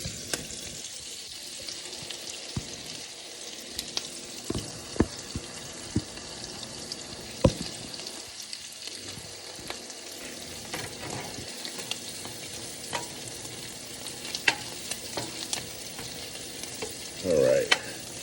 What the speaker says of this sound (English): Pan getting hot. Tortillas going.